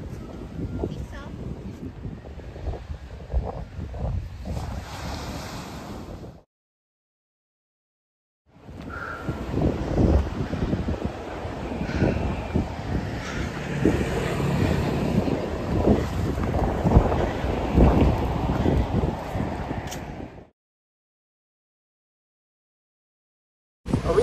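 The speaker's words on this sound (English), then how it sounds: "This wind calls for hat backwards mode." Strong wind buffets the microphone on a beach in Kenting, Taiwan, a loud, continuous roar that cuts out twice, with people talking over it.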